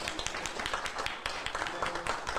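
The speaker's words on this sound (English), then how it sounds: "Would you clap for her?" A press-conference audience claps for a councilwoman at large, a steady patter of many hands close by, with a voice speaking over it.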